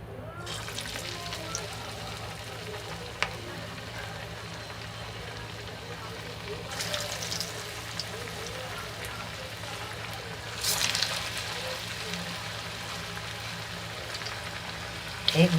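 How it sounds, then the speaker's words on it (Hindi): Pumpkin koftas fry in hot oil in a kadhai with a constant bubbling sizzle. Louder bursts come as pieces are added, and a person talks over the frying. "अब इसमें हम डालेंगे कोफ्ते।"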